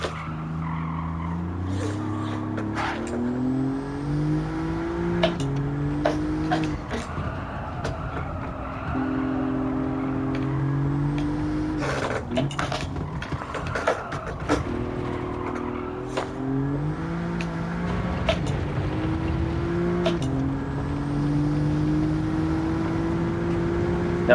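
Alfa Romeo Giulia GTAm engine in Gran Turismo 7, revving up and down through the gears over a lap, with bursts of tire squeal and clicks of gear changes, loud and continuous.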